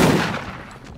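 Gunfire in the video game Deathgarden: a loud, dense burst of shots at the start that decays over about a second, with no talking.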